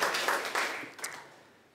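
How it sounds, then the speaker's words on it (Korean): Audience applause in a lecture hall after a call to show agreement, a dense burst of many hands clapping that fades out over under two seconds. "동의하시면 박수 한번 쳐주세요."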